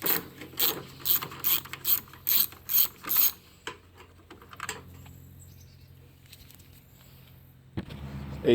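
A ratchet wrench loosens a 10mm bolt on a 2011–2023 Dodge Charger 3.6L Pentastar during engine removal: a run of sharp rhythmic clicking bursts, then quieter faint handling noise and a closing clunk.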